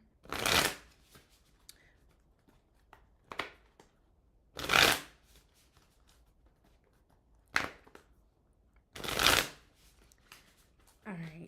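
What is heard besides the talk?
tarot cards being shuffled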